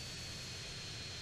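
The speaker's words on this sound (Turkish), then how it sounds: "Abi bu uçağı nasıl hızlı uçuracağız ya?" Airplane engine in GTA San Andreas, a loud, steady, dense roar with no voices over it.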